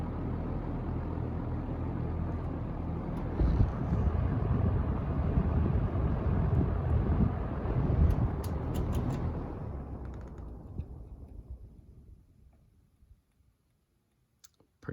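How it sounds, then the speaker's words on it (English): A Wells Royal electric fan, freshly oiled, spins down: a steady broadband whir that holds, then fades and thins out over several seconds into near silence, with a few faint clicks as the blades slow. "I just oiled this fan, so the spin down is going to be a little poopy"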